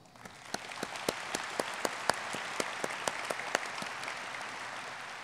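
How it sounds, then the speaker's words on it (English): Applause from an audience at a port authority's annual address greets new employees: a steady wash of many hands with individual sharp claps standing out, fairly close and continuous without talk. "Let's welcome them with a round of applause."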